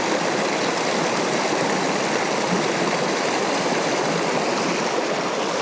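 A small, narrow river in the New Mexico mountains rushes with a steady, loud, unbroken wash of flowing water, heard alone throughout.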